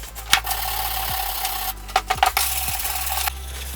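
A wire brush scrubs rust off a vintage Record 51 Junior vise, giving a continuous close, gritty rasping with a few sharper scrape bursts over a steady low hum.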